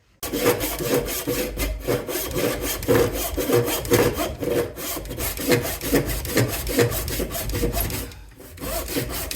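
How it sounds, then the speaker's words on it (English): Coarse 50 to 60 grit sandpaper rubbed back and forth on a wooden camp axe handle clamped in a vise, a steady close scratchy rasping in rhythmic strokes, with no talk. "I am going to sand this thing down"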